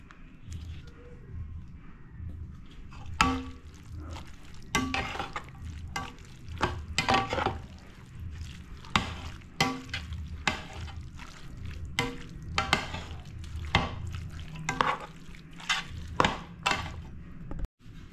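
Tomato paste going into a frying pan and being stirred with a spoon: irregular close scrapes and clinks against the pan over a low simmering bed, with faint voices here and there.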